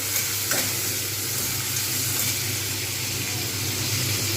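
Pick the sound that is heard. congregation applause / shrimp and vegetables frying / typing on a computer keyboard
shrimp and vegetables frying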